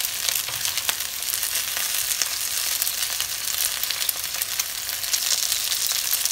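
Ćevapi and pljeskavica fry in a non-stick pan, giving a steady, dense sizzle with small crackles and pops that runs evenly throughout, close and fairly loud.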